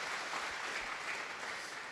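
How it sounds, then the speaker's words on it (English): A church congregation applauds during a worship service, a steady dense wash of clapping that holds at an even, fairly distant level for the whole stretch with no talk over it. "Shall we clap for Jesus?"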